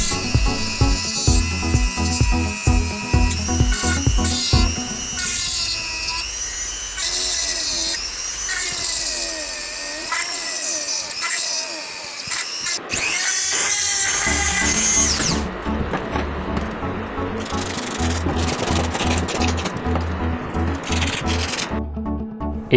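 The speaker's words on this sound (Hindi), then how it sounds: "राउंड कटिंग करने के लिए आप कोई भी मिनी ग्राइंडर या फिर कोई भी छोटी ड्रिल मशीन का यूज़ कर सकते हैं।" A mini grinder or small drill cuts a round hole while building a homemade mini air cooler, whining and grinding continuously at close range, its pitch wavering as it bites the material, with brief pauses and resumptions.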